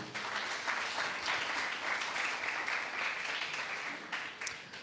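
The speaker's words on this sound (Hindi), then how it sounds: "आप लोग खुद के लिए ताली बजा लीजिए" A small indoor crowd claps together, a steady patter of hands at moderate loudness that holds for several seconds before thinning out near the end.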